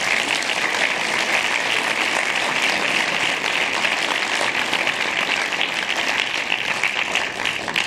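An audience at a film festival closing ceremony applauds in a dense, steady roar of clapping that holds at full strength throughout, with no voices.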